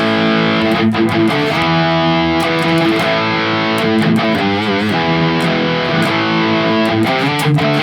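Heavily distorted electric guitar from a Harley Benton Fusion played through the Neural DSP Gojira X amp plugin, loud and continuous with sustained chords and palm-muted chugs, no talking.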